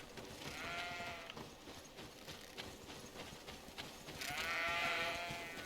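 Sheep bleat faintly in the video game GreedFall, a couple of drawn-out calls, one early and one near the end, against a soft background hum.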